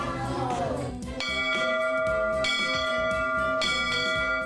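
A steam locomotive's large metal bell clangs loudly at a steady pace, about one strike per second, its ringing tones overlapping, with faint voices behind, at a forest history centre in British Columbia.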